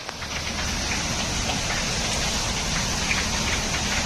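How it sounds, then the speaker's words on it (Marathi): A heavy downpour of unseasonal summer rain beats down in a constant, thick roar of falling water and splashing drops, near and even in loudness from start to finish. "तर बघा कसला पाऊस सुरू झाला आहे आता उन्हाळ्यात"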